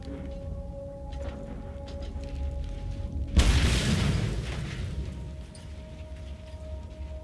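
In the Mad Max video game a gasoline canister blows up with one sudden heavy boom that rumbles away over a few seconds, breaking into a low, steady engine-like drone.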